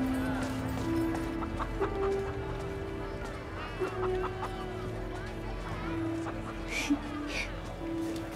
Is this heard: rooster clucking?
yes